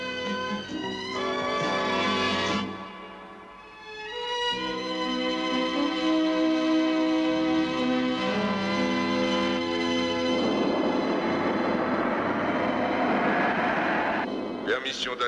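A cartoon spaceship squadron approaching to land, a sustained droning, humming engine tone with shifting pitches that swells and fades, joined by a rising noisy rush toward the end.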